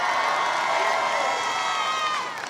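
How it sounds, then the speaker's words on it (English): A graduation crowd cheers and shouts with whoops, steady and loud through the whole stretch, with broadband applause blended underneath the voices. "Let's give it special loud applause for Andy Cholette."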